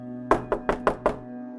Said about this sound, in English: Approaching the porch, they knocked.